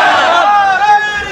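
A crowd at a Sunni religious gathering in a mosque chants the takbir loudly in unison, a sustained, strong chorus of voices close and dominant for the whole moment.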